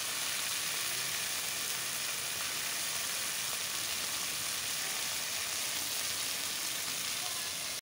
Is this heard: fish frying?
yes